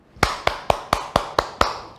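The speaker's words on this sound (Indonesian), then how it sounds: "tepuk tangan dulu buat Tuhan" Seven evenly spaced sharp claps or taps, about one every quarter second, crisp and fairly close. They come from a children's church service, where the group gives applause for God.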